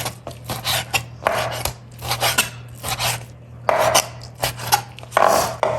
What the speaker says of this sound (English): Now I'm cutting the beef.